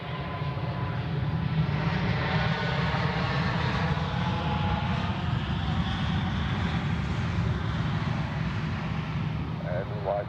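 An Edelweiss airliner arriving from Edinburgh lands at Zurich Airport, a steady broad roar of jet engines carrying across the whole stretch at moderate distance, with a voice speaking over it.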